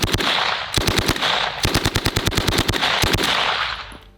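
A captured WW2 Schmeisser submachine gun fired from the hip, loud and close: several short bursts of rapid shots, broken by brief pauses, then a long sustained burst before the firing stops.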